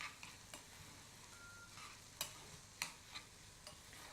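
Brown basmati rice being stirred and fluffed with a utensil in a pan, heard as faint soft scraping with a few sharp clicks and taps scattered across a quiet background.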